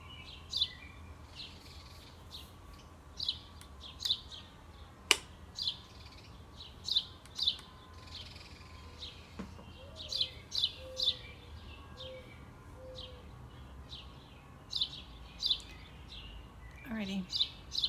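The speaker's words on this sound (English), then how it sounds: "Sparrows. A lot of sparrows around here." A lot of sparrows chirp outdoors in a near-continuous series of quick, high tweets, some in clusters and some single, over a low ambient rumble.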